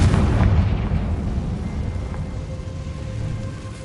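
A Confringo fire spell blasts in Hogwarts Legacy, a loud booming explosion that rolls into a long, rumbling low-end tail, fading gradually without speech.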